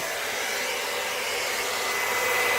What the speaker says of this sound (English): I'm just trying to blow out where I think there's too much paint to get it evened out a little bit.